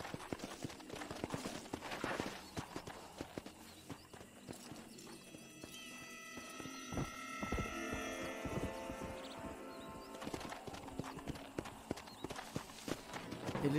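Horse hooves clip-clop at a galloping pace in the Red Dead Redemption video game, a steady rapid rhythm running throughout, with an occasional whinny and faint background hum.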